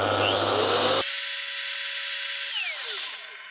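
A CROWN CT13677 angle grinder at its sixth speed setting whines loud and high; after about a second the noise suddenly thins to a steady tone, then fades out as the motor winds down.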